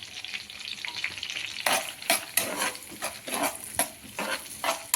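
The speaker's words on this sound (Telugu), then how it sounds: "ఉల్లిపాయ అన్నీ ఒకటేసారి వేసేసుకోవాలండి. వేసుకొని ఫ్రై చేసుకోవాలి." Onions all added at once fry and sizzle in a pan, with a steady hiss and a series of scraping stirs and utensil clinks that get louder partway through.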